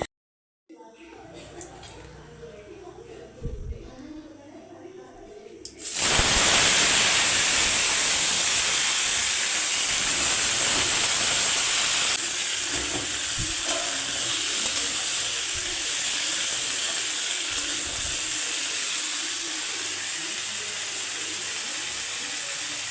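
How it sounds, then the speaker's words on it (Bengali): A vegetable curry and a pot of hot water sit steaming side by side on a stove, giving a loud continuous hiss that starts abruptly after a quieter stretch of kitchen noise and carries on steadily. "এক পাশে নিরামিষ তরকারিটা বসিয়ে দিয়েছি, আর এক পাশে গরম জলটা বসিয়ে দিলাম।"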